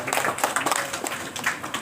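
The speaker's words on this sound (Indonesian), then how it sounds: "Tepuk tangan untuk mereka berdua." Applause from a seminar audience at a hospital in Purwakarta, a thick, continuous patter of many hands, moderately close and unbroken.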